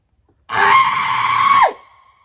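A person on a hilltop lets out one loud, sustained shout lasting about a second, close to the listener, with a short falling tail at the end.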